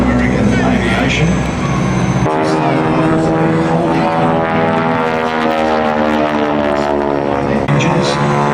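A propeller aircraft flies past at the Shellharbour airshow, a loud droning engine with a strong harmonic buzz that shifts in pitch as it passes, while a commentator talks over it.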